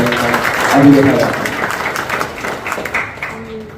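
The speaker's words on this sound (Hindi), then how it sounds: "इसके लिए भी जोरदार एक बार तालियां दीजिए।" Applause from an audience at a lecture event, clapping swelling briefly and then thinning out while someone speaks over it.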